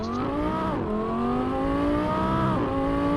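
Engine of a BMW M4 G82 fitted with an Akrapovič exhaust, in the Assetto Corsa racing game, climbs steadily through the revs with two quick gear-shift dips, a continuous, loud, throaty drone.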